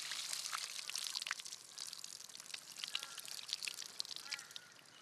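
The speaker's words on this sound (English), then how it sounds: "Tip the water off." Water tipped off a container of white ants in the bush, heard as a continuous close splashing pour with dribbling spatters running steadily throughout, no voices.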